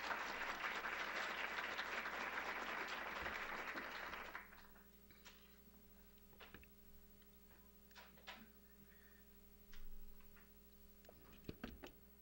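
An audience applauds a speaker at an Ebola epidemic lecture with several seconds of dense clapping that fades out, followed by quiet room noise, scattered ticks and small shuffles.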